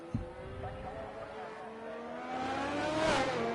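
Ferrari Formula 1 race car engine on track in the F1 23 game, a steady high-pitched whine climbing in pitch as it accelerates, loud and continuous with faint voice under it.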